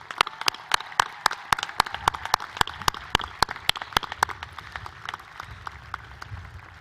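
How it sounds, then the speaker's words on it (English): At a 2020 high school commencement ceremony in a stadium, scattered individual claps ring out sharply at irregular intervals, sparse rather than a full roar, with an open outdoor feel. "Give them a round of applause"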